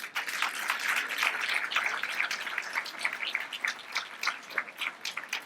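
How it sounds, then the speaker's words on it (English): Audience applause at an awards ceremony honoring companies, a steady patter of hand claps from a modest crowd in a hall, fairly even with small swells and no speech over it. "be so kind to give them a hand clap"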